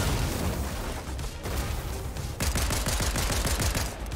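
Rapid gunfire in the Fortnite video game, a dense string of crackling shots with a fast burst of repeated bangs toward the end, moderately loud and unbroken by talk.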